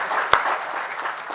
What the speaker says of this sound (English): A big round of applause for Justice Muralidhar.